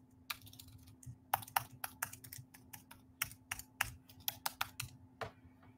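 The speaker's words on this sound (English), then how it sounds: "I can type in my password." Someone types a password on a computer keyboard, close crisp key clicks in quick uneven bursts over a quiet room hum.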